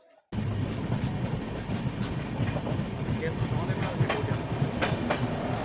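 Sirpur Kaghaznagar Intercity Express 12757 running between Secunderabad and Sirpur Kaghaznagar, a steady loud rumble of wheels on rails with rhythmic clickety-clack, heard from on board after a brief quiet start, with faint talk.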